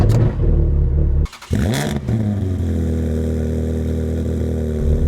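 A Ferrari 360 engine cranks and barks to life, its revs flaring sharply before settling into a loud, steady, close-up idle with a deep rumble, with no voices over it.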